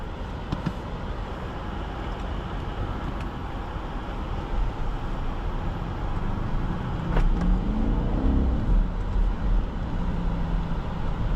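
Steady low road rumble and tyre noise inside a 2020 BMW X7 M50i SUV under way, a constant even drone with a slight swell of engine sound toward the end, no voices.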